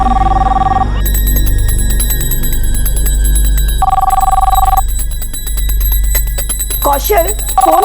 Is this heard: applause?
no